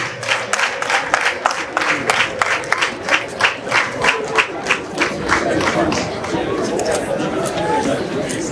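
At a Catholic Mass in Ruhengeri Cathedral parish celebrating a new priest, the congregation claps in a steady rhythmic beat, then breaks into loud, dense cheering and ululating mixed with crowd chatter.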